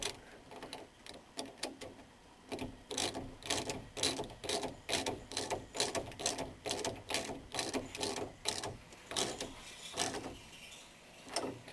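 Ratcheting wrench clicks in steady bursts as 5/8 and 9/16 wrenches tighten a T-handle lock, close and faint, with no talk.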